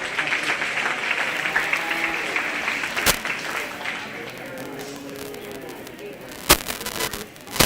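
Applause for a young exhibitor at a 4-H and FFA cattle show rises in a moderate wash of clapping from a modest crowd. It is punctuated by a couple of sharp, close claps, with voices faintly underneath as it tapers off.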